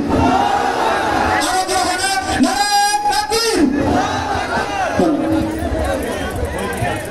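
A large crowd at an Islamic gathering in Ishan Gopalpur, Faridpur chants takbir in loud rhythmic unison calls, close and forceful, with the voices swelling over one another.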